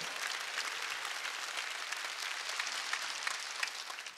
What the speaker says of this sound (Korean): 박수 그대로 된다